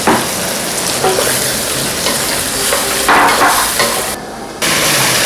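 Water poured onto carrots in a hot pan bursts into a loud, steady sizzle and hiss, with brief bubbling surges and a moment of quieter crackle near the end.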